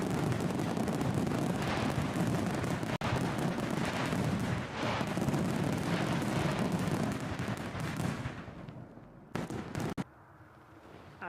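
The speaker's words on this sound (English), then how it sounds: "Cue fireworks. Come on, let's get the fireworks on." Fireworks sound effect on a planespotting livestream at Newcastle airport: a dense, continuous barrage of loud bangs and crackles lasting about nine seconds before cutting off to quiet.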